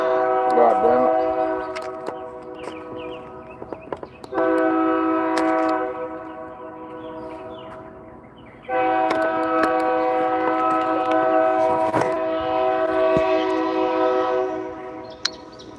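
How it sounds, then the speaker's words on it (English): A train horn blows loudly and close, in long sustained blasts broken by short pauses, with faint talk underneath. "Not a damn train want to be blowing all loud and shit."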